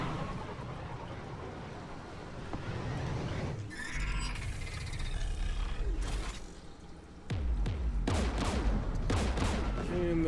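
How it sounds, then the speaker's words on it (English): Anti-aircraft guns in the video game Mass Effect 3 pound away in rough bursts and fusillades under a loud roaring, with mechanical rattles and a sharp jump in volume near the end. "And those AA guns. We're taking fire."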